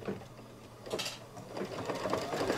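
An embroidery machine stitches a Santa table runner, its rapid mechanical chatter running steadily at close range with small clicks and taps, and no voices.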